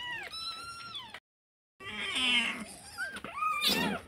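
A kitten meows repeatedly at close range, several drawn-out, high wavering cries separated by a brief silent pause.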